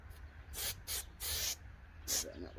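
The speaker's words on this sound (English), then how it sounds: "you can spray them edges if you want then" Spray adhesive hisses from a can onto carpet inside a Vauxhall Vivaro van in four close bursts of varying length, loud against a low background hum.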